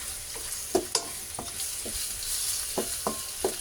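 Potatoes are sautéed in a pan with a steady soft sizzle, broken by irregular scraping and stirring clacks of a utensil against the pan, close up and fairly quiet.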